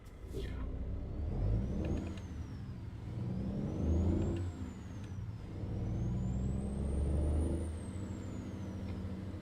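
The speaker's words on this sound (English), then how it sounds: "It doesn't sound too horrible with the Cummins X15." Cummins X15 truck engine of around 500 horsepower in American Truck Simulator, a steady low diesel drone rising and falling through several gear pulls with a faint whine climbing over it, continuous and moderately loud.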